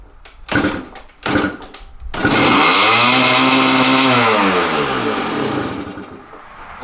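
Kawasaki dirt bike engine cranking with a few short bursts, then catching and running loudly at a steady, slightly wavering idle close by, briefly rising in pitch before easing back.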